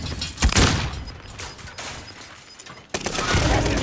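Video game gunfire, bursts of loud overlapping shots and booms in quick succession, dense and close, with a brief lull before another heavy volley.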